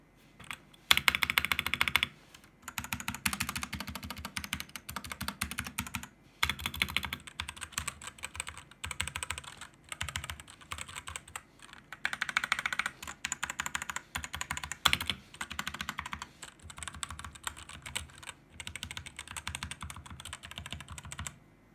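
Typing on a Redragon K530 wireless 60% mechanical keyboard, with rapid clacky keystrokes in bursts separated by short pauses, close and fairly quiet.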